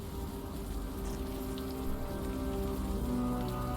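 Steady rain falls in the video game Unavowed, a continuous hiss of drops on a surface with a low tonal hum from the game beneath, with no voices.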